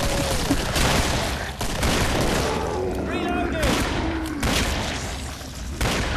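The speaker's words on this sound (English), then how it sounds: "Watch it, I got my dual 44s." Dual .44 pistols firing in the video game Killing Floor, with a few booming shots amid continuous game noise, explosions and chatter in a busy firefight; players talk over the action.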